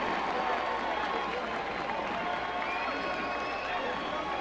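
Crowd cheering and applause at a professional ultimate frisbee game between Chicago Union and Madison Radicals, a steady dense roar filling the stands with a commentator's voice over it.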